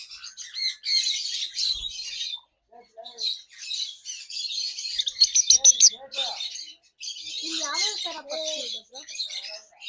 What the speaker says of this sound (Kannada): ಇದನ್ನ ಆಫ್ರಿಕನ್ ಲವ್ ಬರ್ಡ್ ಅಂತ ಕರೀತಾರೆ.